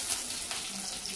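Mustard seeds spluttering in hot coconut oil, a brief close crackle and sizzle that stays steady throughout.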